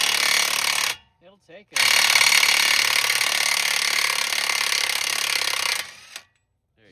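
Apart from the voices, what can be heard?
DeWalt 1/2 inch impact wrench loosening an axle nut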